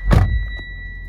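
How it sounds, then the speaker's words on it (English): One solid, close thunk as the door of a 2019 Mitsubishi ASX swings shut, followed by a faint chime tone and quiet cabin hum. "Close the door."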